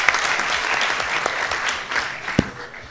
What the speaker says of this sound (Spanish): os damos un fuerte aplauso para el control también